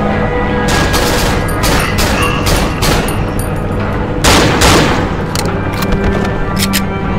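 Gunshots in the horror game Cry of Fear, fired in a fast, loud volley of close, booming reports over a constant dense roar, with no voices.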